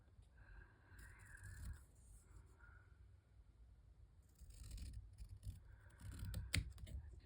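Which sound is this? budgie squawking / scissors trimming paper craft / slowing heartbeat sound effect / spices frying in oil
scissors trimming paper craft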